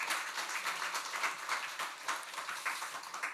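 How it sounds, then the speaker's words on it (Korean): Congregation applause for a church choir during a Sunday worship service, a steady wash of clapping that stays fairly quiet and even throughout. "우리 성가대 경의 박수 하겠습니다"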